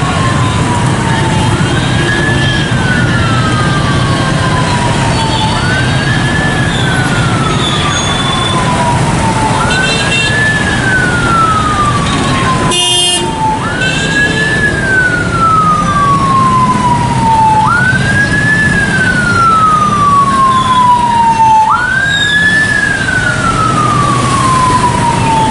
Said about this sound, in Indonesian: Ada ambulan kejebak macet tadi tuh.